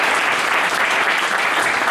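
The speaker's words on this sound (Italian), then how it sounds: "un applauso a Massimo per favore" Loud, dense applause from a crowd at an Italian political gathering, a continuous roar of clapping that stays even and close throughout the short stretch, with no voices on top.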